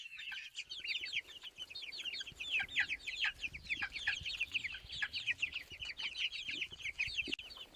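Chickens on a farm cluck and chatter without pause, many birds close together over a faint rumbling background.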